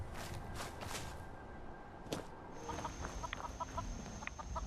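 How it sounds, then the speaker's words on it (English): A chicken in the video game Fallout 4 clucks in short bursts in the second half, fairly faint, over a steady ambient game hiss with a sharp crack partway through. "Hi, chicken."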